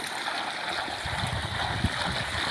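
Steady rushing irrigation water flows continuously from a well pump onto a sorghum field, a constant splashing gush with no pauses, fairly close.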